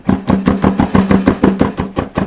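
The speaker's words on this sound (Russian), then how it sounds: "Нарезаем чеснок." A knife chops garlic on a cutting board while rice is being prepared for a homemade copy of a US Army MRE ration, giving about eleven quick, evenly spaced close chops that continue steadily without pause.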